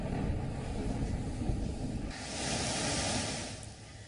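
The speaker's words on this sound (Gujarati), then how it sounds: "દરિયો તોફાની બનતા 10 ફૂટથી ઊંચા મોજા ઉછળી રહ્યા છે" Rough, stormy sea at Tithal beach in Valsad, with waves over ten feet high: a continuous roar of surf with wind buffeting the microphone and a swell of breaking water partway through, heard from the shore.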